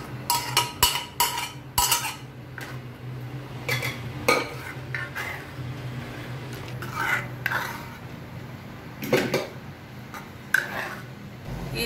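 A metal spoon scrapes and clinks against a pot while dal is stirred together with a freshly made tadka, in a run of irregular, fairly close knocks and scrapes over a faint background hum.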